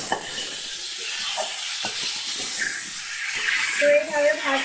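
Food fries in a pan with a steady close sizzle and hiss, broken by stirring scrapes, while a person talks over it.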